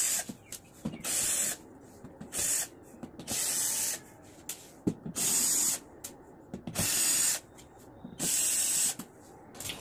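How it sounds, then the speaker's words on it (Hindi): An electric screwdriver removes screws from the back panel of a 32-inch smart LED TV. It gives about eight short, high whirring bursts, close and loud, separated by brief pauses and faint handling noise. "मैंने इलेक्ट्रिक स्क्रू ड्राइवर से सभी स्क्रू को ओपन कर लिया है।"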